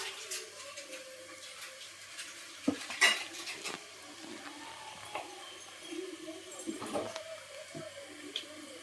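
A spoon stirs tamarind water into tomato masala in a pan for South Indian fish curry. Soft scraping runs throughout, with sharper utensil clinks near the start and middle, over a faint background hum.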